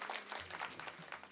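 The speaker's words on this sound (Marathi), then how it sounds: "एकदा गायक वादक साठी जोरदार टाळ्या झालं पाहिजे महाराज" Audience applause rings out for the singers and musicians at a comic devotional kirtan, a dense, steady patter of many hands clapping for a brief moment.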